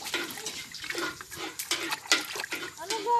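A baby splashes and plays in water outdoors at Cavinti, Laguna, with irregular nearby splashes and sloshing while adults talk and a voice rises over the water.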